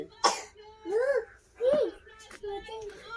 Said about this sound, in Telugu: దగ్గుతున్నాడు ఇంకా స్వీట్ తింటే ఇంకెంత దగ్గుతాడు